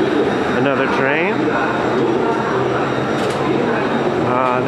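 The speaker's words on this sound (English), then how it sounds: "This is an express train," A JR limited express train passes through Kurume station in Japan, giving a loud, continuous rumble and whine with screeching tonal sweeps, close by and steady throughout under a busy platform background.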